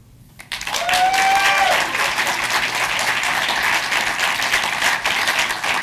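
A conference audience at a programming debate claps to cast votes, the applause starting suddenly after a short pause and continuing evenly for several seconds, with a whistle early on.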